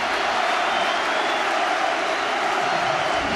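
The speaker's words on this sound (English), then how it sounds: "It's got the crowd going a bit as well now." Ulster rugby home crowd roaring and applauding in a stadium after points go on the board, a steady, dense wash of cheering and clapping throughout with no break.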